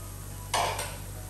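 A lid set back onto a frying pan of pandan chicken, one short clattering metallic clink over a low steady hum.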